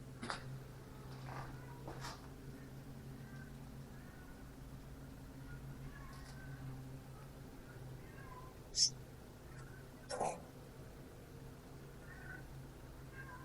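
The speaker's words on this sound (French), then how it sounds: "Vous entendez, il y a un chat." A cat meows several times at a distance, faint against a quiet room, with a couple of louder knocks or bumps.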